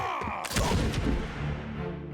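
A loud, booming gunshot from the video game Return of the Obra Dinn cracks out, followed by a rumbling reverberant tail that fades over the next two seconds.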